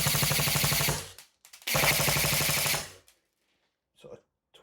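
Airsoft gun fitted with a T238 brushless motor firing two loud, rapid full-auto bursts of about 20 rounds a second, each lasting over a second, separated by a short pause, followed by faint handling clicks.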